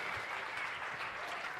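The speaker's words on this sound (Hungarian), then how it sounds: "Egy nagyon nagy tapsot szeretnék nekik kérni" A congregation applauds a church youth worship team, steady quiet clapping heard alone across the whole moment.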